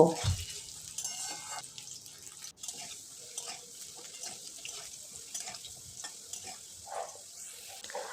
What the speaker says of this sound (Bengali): এবারে আমি ডুমো ডুমো করে কেটে রাখা আলুটা ভেজে নেব